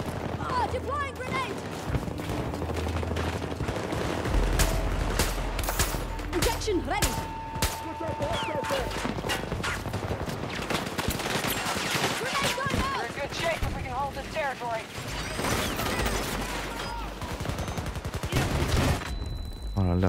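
Gunfire in a first-person shooter game with a sniper firing, a dense barrage of sharp cracks and bursts over a rumbling battle, heard beneath frequent excited talk.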